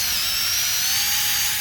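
A power drill bores steadily into a tree stump with a continuous high whine, close and loud, holding one pitch throughout.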